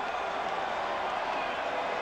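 A large college football stadium crowd at a Wyoming at San Diego State game gives off a steady, broad roar of disapproval, heard as a continuous distant wash of noise.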